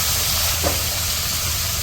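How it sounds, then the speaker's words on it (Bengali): Spice masala for a pangas fish curry cooking down in a wok after a splash of water, a steady close hiss and sizzle with one brief stirring scrape partway through. "অল্প একটু পানি দিয়ে দিল মশলাটা কষানোর জন্য।"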